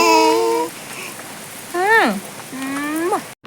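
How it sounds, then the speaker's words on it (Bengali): Heavy rain falls at a rural home as a constant broadband hiss, while a voice speaks in short bursts over it. "এই যে বৃষ্টি হয়েই যাচ্ছে, বৃষ্টি পড়েই যাচ্ছে।"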